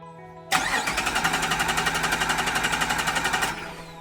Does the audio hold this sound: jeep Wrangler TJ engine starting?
yes